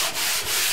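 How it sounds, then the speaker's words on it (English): Joint compound on a wall is hand sanded in a tight space, giving two soft, even rubbing strokes close up with no talking. "start sanding."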